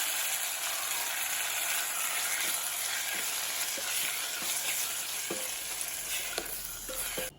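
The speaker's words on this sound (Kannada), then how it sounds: "ಹೆಚ್ಚಿಟ್ಕೊಂಡಿರುವಂತಹ ಟೊಮೆಟೊವನ್ನು ಸೇರಿಸ್ಕೊಳ್ತಾ ಇದ್ದೇನೆ." Chopped tomatoes sizzle and crackle steadily in hot oil for rasam, close and continuous, with occasional sharp clicks of a utensil against the pan and no talking.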